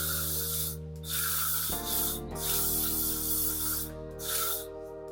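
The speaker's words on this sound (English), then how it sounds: "I'm going to go in with my Infinity No. 3 Holding Spray by L'Oreal." L'Oreal Infinity No. 3 holding hairspray sprayed onto short hair in a home styling routine, several steady hissing bursts close to the mic, with a droning tone running under them.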